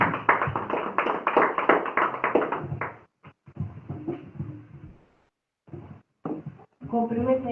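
A church congregation at a service claps together in a loud, steady burst for about three seconds, then quieter scattered sounds and voices follow with pauses between.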